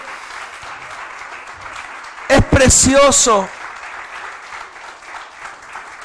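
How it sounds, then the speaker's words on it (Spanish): A church congregation applauds during a sermon, light clapping running throughout beneath a preacher's voice, which rises in a brief loud burst of speech in the middle. "Denle un aplauso a la palabra del Señor"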